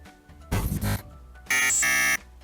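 Robot sound effects: a burst of harsh buzzing noise followed by a loud electronic beeping tone with a rising chirp, two short separate blasts.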